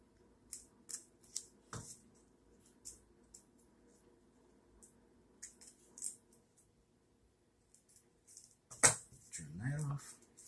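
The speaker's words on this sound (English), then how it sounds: "I really need to find a way to sharpen these scissors." Scissors snipping paper to make homemade card sleeves, a series of short, quiet cuts scattered across the stretch, then a louder burst of handling near the end.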